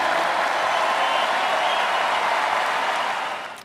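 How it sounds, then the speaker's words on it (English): A large crowd at the Republican convention applauds and cheers in a dense, sustained roar that holds loud throughout, then begins to fade at the very end. "it is so nice to hear you cheering for what I just said."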